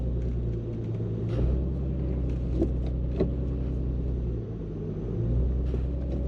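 A car engine idles and rumbles steadily at close range in a shop while backing up, the clutch being engaged with an adjusted RJM clutch pedal; the low drone holds steady, dipping briefly, with no talk.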